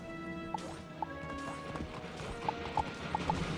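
Hoof clip-clop from a rideable pet mount in the Wizard101 game, a steady series of light, evenly spaced hoofbeats over a continuous background game music bed, close and clear.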